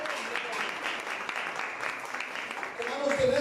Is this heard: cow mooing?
no